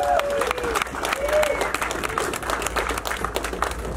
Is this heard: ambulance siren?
no